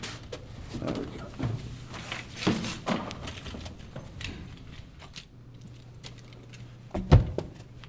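Metal keys jangle and clink in a series of short, uneven rattles at close range, mixed with soft handling and shuffling noises in a quiet apartment hallway.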